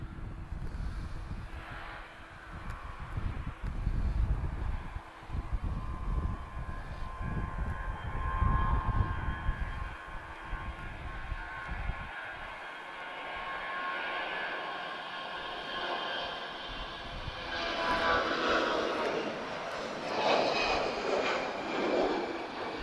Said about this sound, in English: So let's watch this A321 depart. Full runway takeoff.